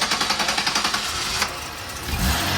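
A 2011 Buick engine cranks with a fast, even starter rhythm, running too rich and struggling to catch, then sputters and briefly surges as it nearly fires, loud and close.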